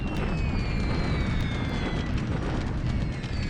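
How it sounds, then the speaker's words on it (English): Bombing explosions in a Pacific wargame: a dense, continuous roar of booming blasts and rumbling detonations, loud and unbroken, with faint high whining tones drifting overhead. "More bombing here over Sian and Quang"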